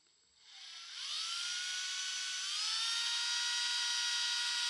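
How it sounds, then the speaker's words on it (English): A small drill bit spins up and bores into a plastic RC car body, a high-pitched whine that climbs in pitch and then holds loud and steady, with no talking. "So first thing we're going to do is just drill right next to the crack here."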